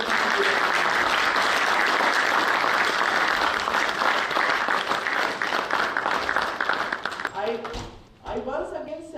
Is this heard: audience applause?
yes